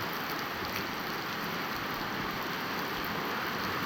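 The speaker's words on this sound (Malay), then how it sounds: "hujan lebat di kampung Igan" Heavy rain pours steadily on a village during a storm and power blackout, a dense continuous hiss with no voices, constant and close throughout.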